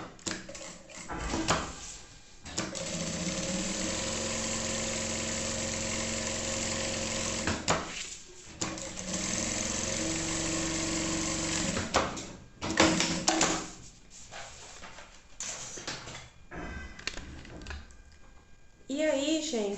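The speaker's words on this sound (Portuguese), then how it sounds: "Agora eu já costuro aqui o restante," A sewing machine stitches a maternity bag, buzzing in several sustained runs of rapid needle motor whirring broken by short pauses, with someone talking between and over the bursts.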